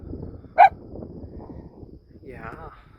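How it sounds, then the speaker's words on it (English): A single sharp dog bark rings out once over a steady outdoor background at a wild campsite in Wyoming, with antelope nearby, followed later by a brief higher-pitched call. "was barking, wasn't sure what she was barking at"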